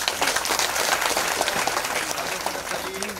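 Steady applause from an audience welcoming the taluka agriculture officer at a seed distribution event for flood-hit farmers, a dense continuous patter of many hands lasting throughout.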